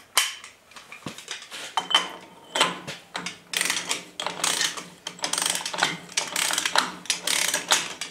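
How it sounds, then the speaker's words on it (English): Torque wrench set to 50 foot-pounds ratchets on the right-hand front wheel hub of a Willys Jeep CJ3A with 11-inch brakes, giving a run of close, crisp metallic clicks in quick bursts, with no talking. "And now we take the torque wrench out, set that to 50 foot-pounds"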